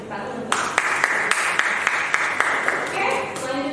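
Clapping at an academic teaching session rings out as a steady series of sharp claps in a regular rhythm, moderately loud, with a voice speaking underneath.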